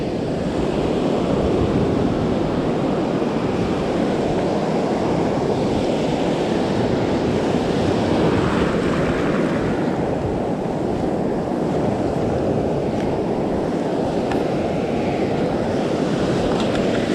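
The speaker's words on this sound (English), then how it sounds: "Those waves have got a bit of kick." Ocean surf breaks steadily on an exposed surf coast shoreline, a continuous loud roar of waves with wind buffeting the microphone, no voices heard.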